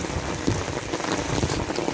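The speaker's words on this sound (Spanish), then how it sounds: "bendito Dios que nos manda la lluvia." Steady rain falls in rural Hermenegildo Galeana, Puebla, Mexico, a dense even patter of drops striking surfaces, with scattered louder splashes throughout and no talking.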